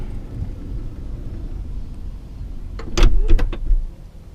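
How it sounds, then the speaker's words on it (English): Power sliding door on a 2018 Chrysler Pacifica Hybrid minivan, a low motor rumble followed by a cluster of sharp mechanical clacks and a latch thud, close and fairly loud. "I like all these power doors and everything."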